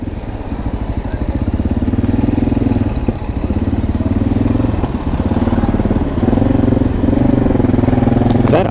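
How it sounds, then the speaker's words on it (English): A Kawasaki Ninja 400 fitted with a shorty exhaust runs close by with a loud, steady engine note and a few small surges in revs, heard alone without talk. "That was a Ninja 400 with a one of those shorty exhausts."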